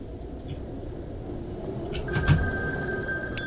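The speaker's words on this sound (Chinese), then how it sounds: "电话响" A telephone rings in the horror video game Devotion, a bright electronic bell tone that starts partway through and continues steadily over a low rumbling background.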